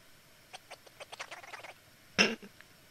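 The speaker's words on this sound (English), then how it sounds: "What's with the duck?" A duck in the video game The Crooked Man gives a run of short, quick quacking calls, then one louder, harsher burst near the end, all fairly close against a quiet background.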